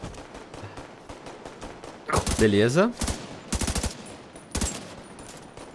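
Bursts of automatic gunfire from the video game The Division 2, loud rapid volleys broken by short pauses, with players talking over a steady game background.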